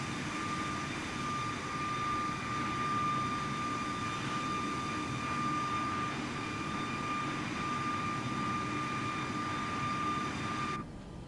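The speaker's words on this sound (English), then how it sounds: "We're climbing above all the weather. In our beautiful Boeing." Simulated Boeing 737 Max 8 jet climbing in Microsoft Flight Simulator 2024, giving a steady, even engine roar and whine with faint tonal hums that holds throughout and cuts off at the very end, with no talking.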